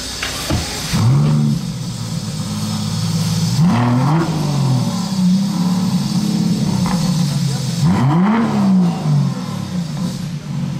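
A 2025 Aston Martin Vanquish engine fires up and revs in loud, repeated surges, roughly three throttle blips rising and falling over a steady idle, with faint voices in the background.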